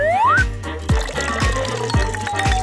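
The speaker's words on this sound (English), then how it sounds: "you can pour it into a bottle." Homemade jelly is poured into a bottle, making a rising gurgle as it fills followed by a series of close, rhythmic glugging plops, about one every half second.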